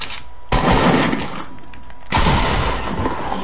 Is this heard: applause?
no